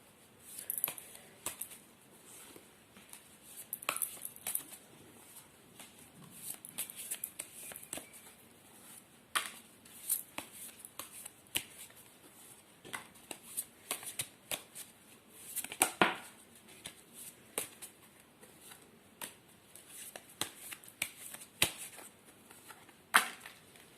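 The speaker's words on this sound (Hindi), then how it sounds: "तो कार्ड की शफलिंग करते हैं और देखते हैं जिन्होंने ये चूज़ किया है उनके लिए क्या कार्ड्स आते हैं" Tarot cards shuffled continuously for a reading, a steady run of crisp riffling and soft flicking taps up close, with no talking over it.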